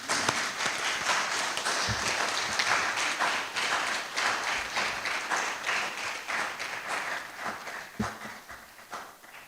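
Applause from a public forum audience thanking three panelists, steady, fairly distant clapping sustained throughout and gradually thinning toward the end, with a few sharper individual claps standing out.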